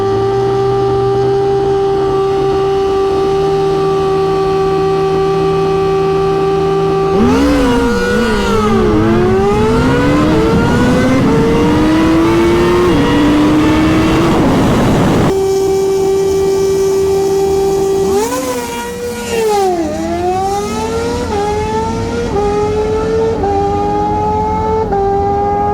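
A 2022 Suzuki Hayabusa motorcycle idles, then launches down a drag strip with a loud rising engine howl through the gears. It fades, then a second run follows with another screaming climb through the gears.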